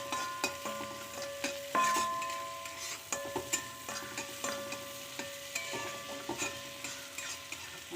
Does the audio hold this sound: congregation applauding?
no